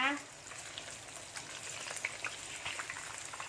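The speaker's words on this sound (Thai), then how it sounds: "ทอดปลานินด้วยไฟอ่อนนะคะ ทอดมาได้ประมาณ 3 นาทีนะคะ" Tilapia frying in a pan over low heat gives a steady, soft crackling sizzle with scattered small pops. It is close and quiet, and a brief tonal sound comes at the very start.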